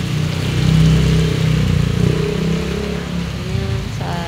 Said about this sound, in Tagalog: Yan, maulan oh